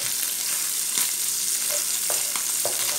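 Seasoned rice stirred and fried in a pan, a constant bright sizzle with occasional soft scrapes and knocks of the spoon, close, with no one speaking.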